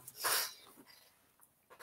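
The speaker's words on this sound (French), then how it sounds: "Et voilà mon toutou." A dog that seems unwell breathes and snorts close by in short, uneven puffs and sniffs, with a louder snort burst early and quieter breaths after.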